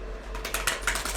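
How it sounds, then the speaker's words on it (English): Circular tarot cards are shuffled by hand in a quick run of crisp, irregular clicks and flutters, close and fairly loud with no talking. "I'm just going to shuffle these beautiful circular cards real quick"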